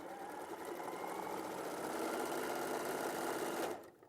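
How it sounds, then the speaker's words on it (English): A sewing machine stitches fabric at a steady whirring pace for several seconds, then stops abruptly, close and alone without talk. "when you pick it up off the table and take it to the sewing machine"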